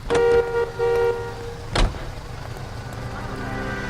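In the L.A. Noire video game, a car engine hums under a steady drone, with a couple of short horn toots near the start and a sharp knock partway through, fading to a low idle.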